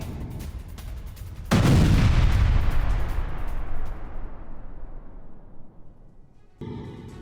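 Artillery fire from a Russian attack on a Ukrainian infantry unit: one loud, near blast after a low rumbling lead-in, its roar decaying over several seconds, then another burst starting near the end.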